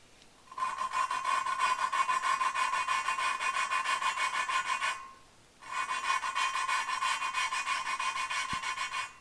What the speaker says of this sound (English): When it becomes less raspy, you need to change your lapping compound.